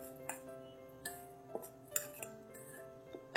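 Spoon clinking against a bowl while spices are mixed for naan pakora batter, a string of light, irregular metallic taps and scrapes, close and clear with no talk.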